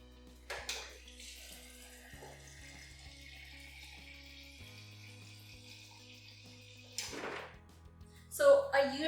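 Water runs steadily into a container of frozen smoothie cubes for an EVIVE smoothie maker, a continuous pouring hiss lasting several seconds, followed by brief clatter and handling noises near the end.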